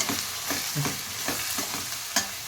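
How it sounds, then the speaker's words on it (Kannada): Onions frying in a pan until golden, a continuous sizzle with a hissing wash broken by repeated scraping stirs and a sharper clack near the end; no voices. "ಈರುಳ್ಳಿನ ಈಗ ಚೆನ್ನಾಗಿ ಫ್ರೈ ಮಾಡ್ತೀನಿ. ಗೋಲ್ಡನ್ ಕಲರ್ ಆಗೋ ತನಕ ಫ್ರೈ ಮಾಡ್ತೀನಿ."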